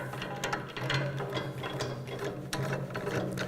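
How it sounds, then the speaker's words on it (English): A ratchet clicks as it tightens the clamp bar on a portable drum mixer, giving rapid, loud metallic ratcheting in short close bursts. "So this allows us to tighten down the clamp bar."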